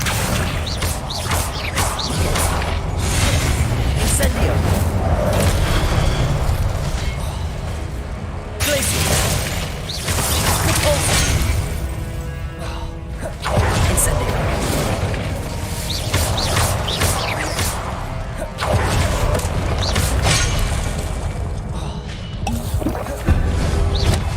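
Confringo blasting spell explosions in the video game Hogwarts Legacy, with several loud, crashing blasts that repeat across the stretch over a dense, rumbling game backdrop.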